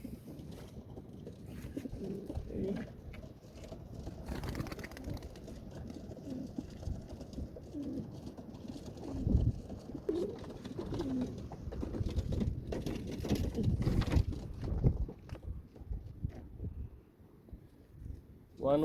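Pigeons coo repeatedly in a loft, soft throaty calls recurring over a low background hum, with a few louder bursts and occasional rustling nearby.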